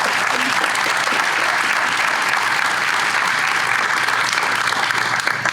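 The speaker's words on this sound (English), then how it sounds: "Let's give them a round of applause." An audience at an annual awards breakfast applauds in a steady, dense burst of clapping that carries through without a break and stays loud to the end.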